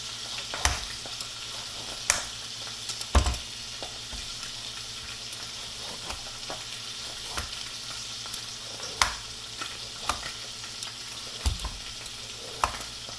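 Hot cooking oil sizzles in a pan with a steady, fine hiss. Scattered sharp pops and spits of splattering oil cut through it, loud and close, and no one speaks.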